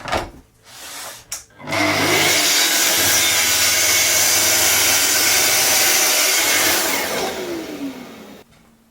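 A power saw whines up and makes a 5-degree bevel cut through wood, slicing off a strip in one loud, sustained pass lasting several seconds, then spins down, with brief mechanical clicks at the start.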